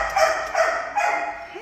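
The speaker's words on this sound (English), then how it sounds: "a really great dog" A dog barks and yips a few times at an animal shelter, fairly near, with steady background noise.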